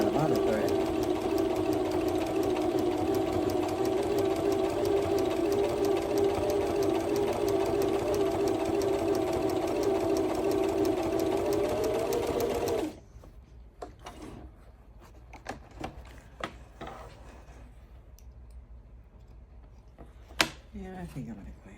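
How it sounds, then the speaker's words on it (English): A sewing machine runs steadily and close by, stitching a boxy bag for about thirteen seconds. It then stops, leaving faint clicks and fabric handling sounds. "I'm just gonna stitch right over that line that I started sewing before I ran out of other thread."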